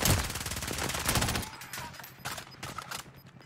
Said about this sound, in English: Who just shot?